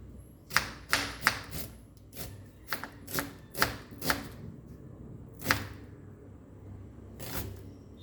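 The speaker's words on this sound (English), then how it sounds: "chop the onion fine" A knife chops onion finely on a board, producing a quick run of crisp close taps, then a few spaced strokes after a pause, with no one speaking.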